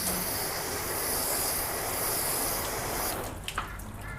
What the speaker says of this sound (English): the water is coming straight off as soon as you rinse it.